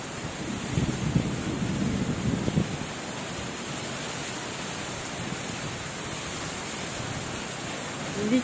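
Windstorm with rain and hail makes a steady broadband roar throughout, with a louder, rougher rustling burst over the first few seconds before settling into an even wash.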